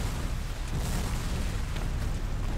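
Distant gunfire and booming blasts in a Civil War video game, a dense continuous rumble of shots and explosions with no clear individual cracks standing out.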